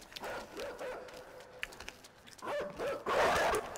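A dog chasing the player in the video game Inside gives off short yips and whimpering barks, moderately loud and close, with a louder burst near the end.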